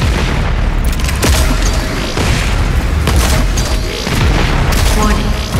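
The BFG 10,000 fires in the video game Doom Eternal, heavy rumbling booms and crackling blasts continuing loudly throughout while a voice speaks in the background.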